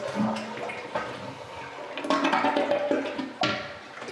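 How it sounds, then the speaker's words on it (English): A household toilet in a home on Countryside Path in The Villages, Florida is flushed, a nearby rushing gurgle of water with surges and splashes that swells over about four seconds. "Let me test the toilet in here."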